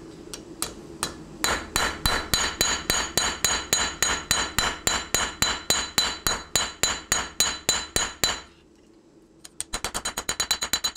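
Hand hammer blows forging the bevels into a hidden tang knife, a steady rapid run of sharp metallic strikes on hot steel at the anvil, close and loud, pausing briefly before a quicker flurry of lighter taps.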